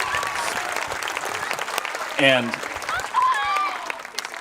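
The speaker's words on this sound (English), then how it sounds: "can we give another round of applause to our students?" A crowd at a school May Day celebration applauds steadily for students, while a speaker's voice cuts in briefly over the clapping.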